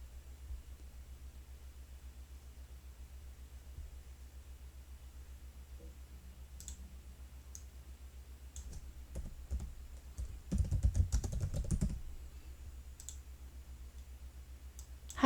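Mouse clicks and computer keyboard typing while editing subtitles in PowerDirector 15: scattered light clicks, then a quick flurry of keystrokes, close and quiet over a steady low electrical hum, with no talking.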